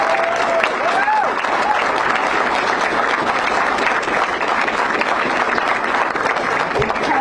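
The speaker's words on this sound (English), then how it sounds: "So a round of applause for our leaders." Dense, sustained applause from a crowd at a governor's workers' rights bill signing, loud and steady throughout with a few faint voices mixed in.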